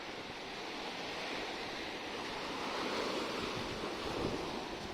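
Ocean surf rolls in steadily at Kanyakumari beach, a broad wash of breaking waves with some wind rumble, no voices.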